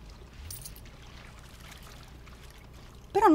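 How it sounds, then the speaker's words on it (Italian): In The Sims 4, a water sample is scooped from the sea, giving a soft watery pouring and splashing sound over light game ambience, with a brighter burst at the very end. "prendi un campione dal mare"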